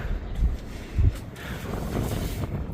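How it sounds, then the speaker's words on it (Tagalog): Wind buffets a nearby microphone with low rumbling gusts and rustling, steady throughout and rising in a couple of brief bursts. "Mahangin."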